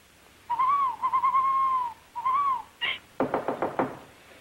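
Long wavering owl hoots, a few drawn-out calls, followed by a quick series of sharp knocks, close and clear with no talking.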